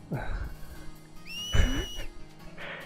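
Character whistling in a Final Fantasy X HD cutscene, two short rising whistle notes around the middle, mixed with scene sound effects and brief vocal sounds.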